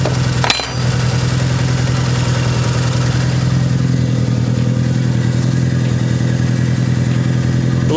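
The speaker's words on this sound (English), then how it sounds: "Idled it for about 15 minutes, went through 2 fan cycles" A turbocharged Mazda Miata, just repaired after a burst oil line, starts with a brief catch and then idles loud and close with a steady, even drone that holds to the end.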